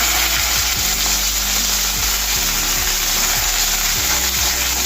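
Chopped onion pieces fry with fennel seeds in a loud, constant sizzle, with repeated short scraping strokes of a spoon against the pan heard close up.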